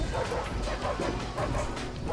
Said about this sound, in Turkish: Bak yine köpekler var.